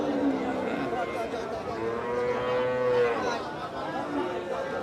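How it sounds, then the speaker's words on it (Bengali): A calf and cattle at a busy cattle market moo in long, drawn-out lows, one prominent bellow swelling in the middle, over steady crowd chatter and talk. "বাছুরটা কিন্তু মাশাআল্লাহ অনেক সুন্দর একটা বাছুর"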